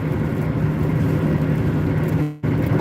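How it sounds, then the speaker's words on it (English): A loud car engine drones steadily from inside the car while driving, a constant low hum and road rumble with a brief dip just before the end. "sorry if my car is loud"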